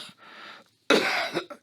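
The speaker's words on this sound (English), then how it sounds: "I just got a cough." A man coughing, a soft rasp followed by a loud harsh cough burst close to the microphone.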